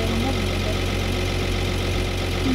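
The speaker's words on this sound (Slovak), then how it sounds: "Snáď ten motor bude robiť." Tractor engine in the Farming Simulator 2013 video game running steadily, a loud continuous mid-pitched drone with an even idling rumble and no pauses.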